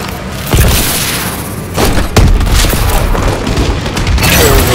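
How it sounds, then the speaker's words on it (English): Heavy explosions from a friendly bombing run in Call of Duty: Advanced Warfare on a Detroit map, several loud booming impacts landing in succession over a dense rumbling battle din. "Friendly bombing run incoming."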